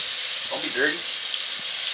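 Steady hiss of tap water running into a sink while washing dishes, with a brief voice speaking over it.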